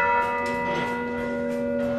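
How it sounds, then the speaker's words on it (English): A ship's bell aboard an aircraft carrier rings once with a loud, clear metallic strike, then its bright tone rings on and slowly fades, with no talking over it. "Can I ring the bell, Mike?"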